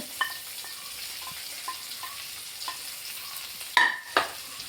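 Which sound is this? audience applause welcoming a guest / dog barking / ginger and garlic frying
ginger and garlic frying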